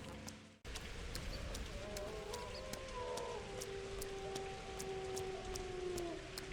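Rain falling in the video game Pathologic 2, a soft steady patter of drops on surfaces that runs throughout under a few faint tonal game sounds and a low sustained drone, with no voices.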